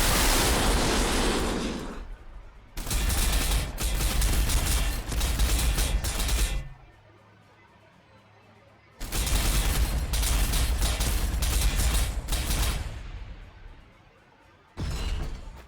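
Gunfire in Warhammer 40,000: Sanctus Reach, Astra Militarum battle: dense, loud bursts of noisy volleys in three long stretches, separated by quieter gaps with a low hum.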